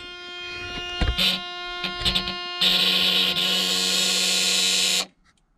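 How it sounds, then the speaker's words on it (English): A couple of short electronic blips, then a loud, harsh dump bed alarm buzzer on a Peterbilt 359 truck drones steadily for about two seconds before cutting off abruptly. "When it goes back on, you hear the buzzer."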